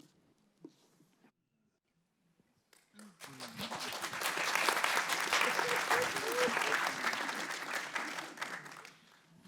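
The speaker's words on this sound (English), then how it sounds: "if we can just give all the artists a round of applause one last time" Audience applause for artists at a cultural conversation event, starting after a few faint sounds and quiet, then swelling into full, sustained clapping from a sizable crowd that gradually tapers off.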